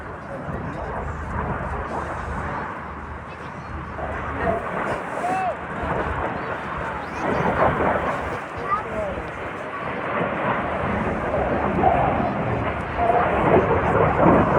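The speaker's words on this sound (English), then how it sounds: "pulling up to complete a barrel roll from 100 feet up to about 300 feet in a manoeuvre called the double roll" Display jets fly airshow manoeuvres over Torbay at the English Riviera Airshow, a broad, rumbling roar that swells and rolls on throughout, with a commentator talking over it.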